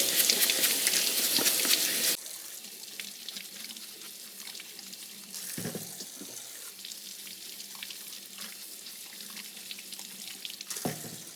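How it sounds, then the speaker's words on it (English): Running warm tap water splashes loudly into a sink for about two seconds, then continues as a quieter steady flow with faint scrubbing and handling noises as onions are cleaned with a small scrub brush, with a brief louder burst near the end. "I'm gonna scrub every single one of these onions. I've got a little scrub brush. Oop, that's warm water."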